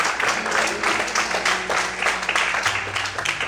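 A church congregation applauding, a dense, moderately loud patter of clapping with voices mixed in underneath.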